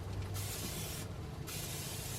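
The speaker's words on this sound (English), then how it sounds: "one thing I like to do, olive oil spray," Olive oil spray misted onto a steak on a grill, a steady close hiss running almost continuously with a brief dip midway, with no talking.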